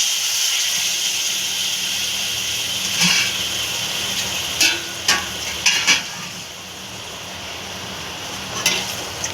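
Water poured into a pan of fried spice paste for egg curry with potatoes, giving a steady sizzle and hiss with several sharp clatters of a utensil against the pan partway through.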